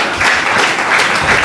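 A church congregation claps together in sustained, dense applause, loud and close, filling the whole moment without speech.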